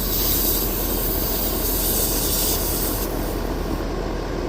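Air purging from the yellow refrigerant gauge hose on a Lennox air conditioner being charged with R410A: a loud, steady rushing hiss that shifts and thins slightly after three seconds, with no speech.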